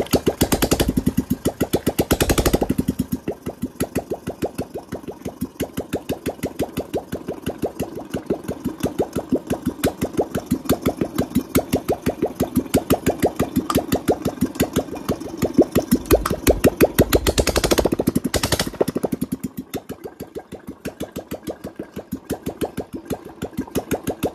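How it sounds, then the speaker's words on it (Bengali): A Royal Enfield Classic motorcycle engine, just rebuilt with an oversize piston, idles steadily with a rapid, even single-cylinder chug close by, briefly revving louder near the start and again toward the end. "ইঞ্জিন স্টার্ট নিয়ে নিয়েছে"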